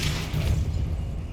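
The Depulso spell cast in Hogwarts Legacy, a brief dense boom with a deep rumbling burst that carries through the whole moment, loud and close.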